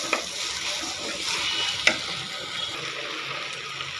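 Chopped banana flower fries in oil in a pan, giving a steady close hiss with light stirring clatter and an occasional sharper knock.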